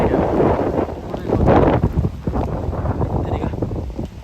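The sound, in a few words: strong wind blowing during a typhoon in Okinawa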